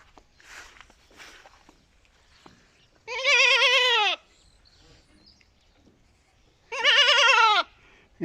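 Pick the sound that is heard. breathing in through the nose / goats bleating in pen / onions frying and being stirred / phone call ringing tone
goats bleating in pen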